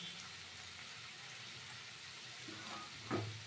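Raisins hit hot oil in a pan while veg fried rice is being cooked, giving a steady soft sizzle with a brief stirring clatter near the end, faint and without talk.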